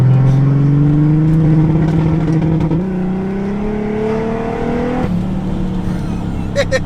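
A Mercedes W124 E320 with the M104 engine revs up close and loud, its pitch climbing steadily from around 3000 rpm toward 6000 rpm, then dipping briefly and rising again.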